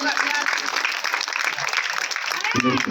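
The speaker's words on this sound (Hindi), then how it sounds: "ताली मारो भाई, ताली मारो, ताली मार दीजिए" A crowd breaks into dense applause, with clapping over lively chatter and voices, ending in a louder speaking voice.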